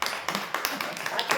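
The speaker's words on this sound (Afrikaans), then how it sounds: "Gee my hande klap." A church congregation claps along in a steady, quick rhythm, a dense patter of hands filling the room at close range with faint voices underneath.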